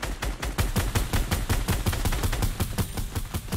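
Rapid automatic weapon fire in Fortnite, a loud steady burst of evenly spaced shots filling the whole stretch with no talk over it.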